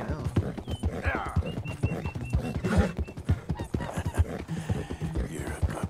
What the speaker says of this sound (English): The horse is kind of freaking out.